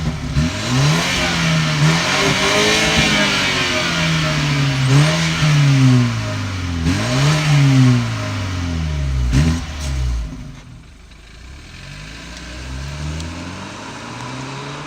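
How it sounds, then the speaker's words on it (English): A BMW 320i xDrive engine revs repeatedly through its exhaust, rising and falling in several loud surges, then settles to a quieter idle rumble near the end. "all I'm forgetting about is the exhaust, and we'll show you clips of that right now"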